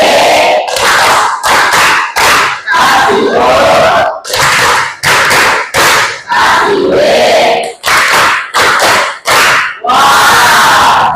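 A school class performs the "tepuk wow" clapping chant, loud rhythmic bursts of group clapping and shouted chanting in repeated short phrases with brief gaps, close and energetic for about eleven seconds.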